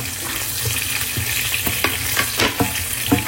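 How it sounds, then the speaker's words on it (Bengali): Prawns sizzle and crackle in hot oil as they fry until crispy, a steady close-up hiss broken by occasional scraping stirs of a spatula in the pan, with no talking. "এখানে চিংড়ি মাছটাকে একদম কড়া করে মুচমুচ করে ভেজে নিচ্ছি।"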